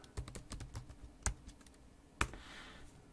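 Close, quick keystrokes on a computer keyboard come in an uneven run of light clicks with a couple of sharper taps, and there is no talk.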